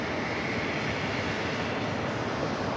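A JetBlue Airbus A220-300 jet at JFK airport, bound for Chicago O'Hare, gives off a steady broadband engine roar at moderate distance, an unbroken rushing drone with no gaps or talk.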